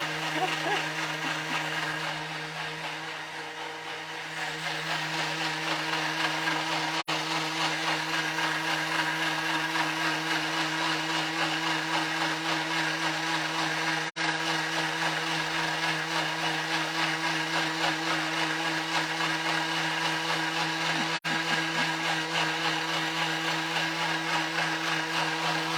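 A kitchen blender whirs continuously while blending pandan leaves into an extract, a loud steady motor drone lasting the whole stretch with only a slight dip near the start.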